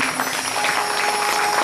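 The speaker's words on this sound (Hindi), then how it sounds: "एक बार ताली बजाकर सम्मान कर दो।" An audience claps at a Shrimad Bhagavat week religious discourse by Sant Shri Gyandev Ji Maharaj, a short, dense burst of many hands applauding steadily throughout.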